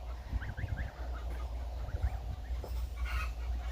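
Geese and goslings honking repeatedly at moderate distance in a village garden, a flock calling in short nasal bursts over a low outdoor rumble.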